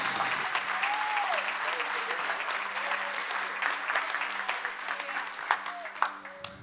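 A church congregation applauds at an evangelical service, steady broadband clapping filling the room for several seconds, with a sustained tone underneath and the sound thinning toward the end.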